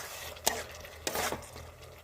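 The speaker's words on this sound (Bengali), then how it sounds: "দিয়ে ভালো করে আমি নেড়ে দেবো।" Ground chili, cumin and coriander are stirred in a pan for mutter paneer, with two sharp utensil scrapes against the pan over a faint low background hiss and no voices.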